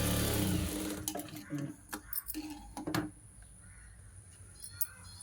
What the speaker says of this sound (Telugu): ఇలా జాయింట్ వేసుకొని డబల్ కుట్ట అనేది వేసుకోవాలండి